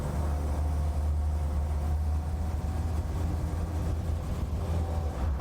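A restored Land Rover Series IIA engine drones steadily and close as the clutch is let out and the vehicle pulls away in reverse, a continuous low rumble with no talk.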